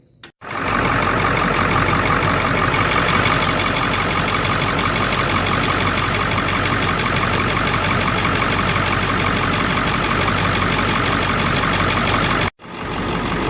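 A Ford 7.3 diesel engine idles close by at a steady, loud, even rumble that holds from start to finish and then cuts off abruptly near the end.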